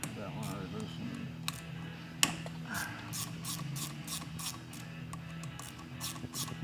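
Ratchet clicking in short repeated bursts while loosening bolts on a dirt bike clutch, close up, with a low hum and occasional talk underneath.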